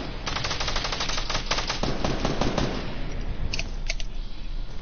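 Rapid automatic gunfire from the video game Fortnite, a loud close burst of repeated shots in quick rhythm followed by a few separate blasts, with no talking over it.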